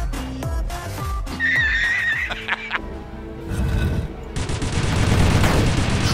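Shots from the wizard's gun in the video game Dungreed, rapid bursts of chirpy, synthetic gunfire over game music, swelling into a loud, sustained barrage of firing toward the end.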